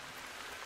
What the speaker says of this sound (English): I wish it would stop raining. It's so goddamn loud.